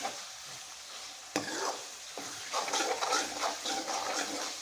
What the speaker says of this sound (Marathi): पनीर टाकल्यानंतर सुद्धा असं चांगलं हलवून घ्यायचं